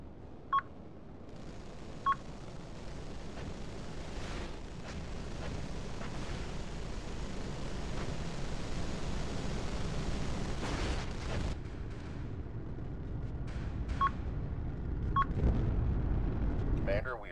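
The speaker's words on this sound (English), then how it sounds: "Launching missiles." Missiles launching and detonating in a real-time strategy video game match, a steady low roar of rumbling blasts with a few short beeps scattered over about seventeen seconds, under a continuous dense battle din.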